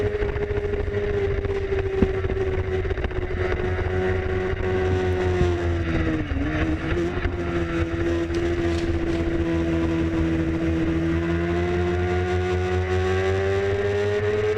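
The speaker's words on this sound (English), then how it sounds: "Going through on the Aprilia RS 250." An Aprilia RS 250 racing motorcycle runs on a circuit during a race, its engine holding a loud, steady high-pitched whine that dips briefly mid-pass and then climbs again as it carries on around the track.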